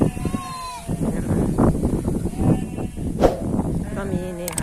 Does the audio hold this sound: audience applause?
no